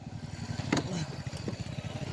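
A motorcycle engine runs with a low, rapid thrumming pulse, fairly faint and steady, with a slight rise in the middle.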